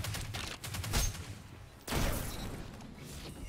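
Gunfire in the video game Destiny 2 from a crafted Age-Old Bond weapon rattles in quick, dense bursts at low volume, with two heavier surges of shots and no voices during it.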